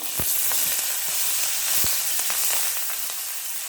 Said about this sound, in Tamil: கருவேப்பிலை தழை கொஞ்சம் போடுறேன்.